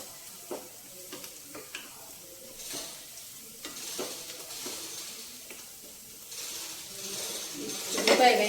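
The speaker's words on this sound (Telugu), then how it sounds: "ఉల్లిపాయ వేగిపోయిందండి" Onions sizzle in a pan for a broad bean fry while a spoon stirs and scrapes, soft frying hiss with intermittent close clinks, a few faint words spoken near the end.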